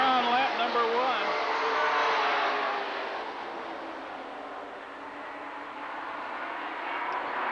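Mid American Truck Series race trucks circle an oval at LaCrosse Speedway in West Salem, Wisconsin, with a loud continuous engine roar that swells and fades as they pass. An announcer talks over the noise.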